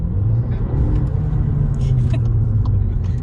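A Skoda Fabia engine in sport mode gives a steady, loud rumbling drone through the cabin, holding an even pitch for a few seconds with no sharp rev change.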